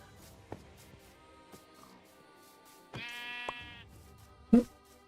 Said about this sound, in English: Ah, another sheep.